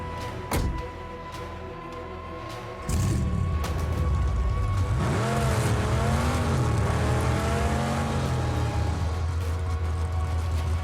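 A car engine in the Mad Max video game idles, then roars into loud revving with rising and falling pitch sweeps as it accelerates, steady and close without a break.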